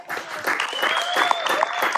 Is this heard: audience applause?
yes